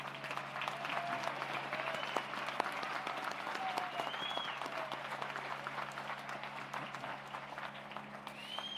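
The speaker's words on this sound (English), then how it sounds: "Please give these students a well-deserved round of applause." A commencement audience at Adrian College applauds graduating students in 2024, sustained even clapping heard from a distance in a large space, with faint whistles and calls rising over it.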